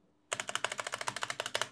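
Fast typing on an expensive, well-used mechanical keyboard, with a quick even burst of bright, close key clicks after a brief silence.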